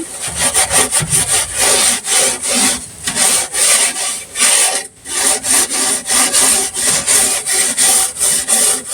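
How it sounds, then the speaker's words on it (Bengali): Someone scrubs a stove with detergent powder, a loud, steady rasping rub in quick back-and-forth strokes that runs almost unbroken, with one brief pause midway. "এই যে ডিটারজেন্ট পাউডার দিয়ে আমি এখন চুলাটা ধুয়ে নিচ্ছি চুলাটা দিয়ে ঘষছি ঘষে ঘষে হচ্ছে পরিষ্কার করে ফেলতেছি"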